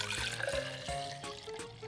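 Vinegar poured into a container for a home science experiment, a close steady liquid gurgle and splash with bubbling pulses over about two seconds.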